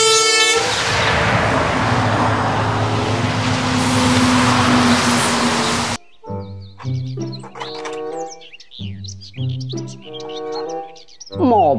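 A toy truck horn blasts with a rumbling engine noise for several seconds, then gives way to a bouncy run of electronic beeps and tones.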